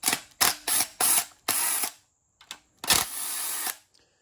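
A ratchet socket wrench works 10 millimeter bolts on a B20 VTEC turbo engine build, giving several short bursts of rapid clicking separated by pauses, close and loud, with no talk.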